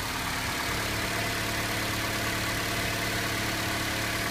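A 2008 Honda Civic's 1.8 liter four-cylinder engine runs at a steady idle throughout, a constant close, dense hum with no speech over it.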